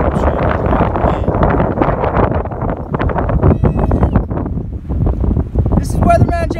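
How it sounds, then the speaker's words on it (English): Strong wind at Balmorhea Lake buffets the microphone in a constant roar, with rumbling gusts and some faint background sounds near the end. "we're out here at the lake, and it is windy."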